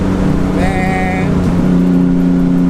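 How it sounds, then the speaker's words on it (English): A twin-turbo 1991 Nissan 300ZX engine, built to around 900 horsepower, revs hard against its rev limiter in a brief, loud, close burst, with a faint voice-like tone mixed in. "I bounced off a rev limiter."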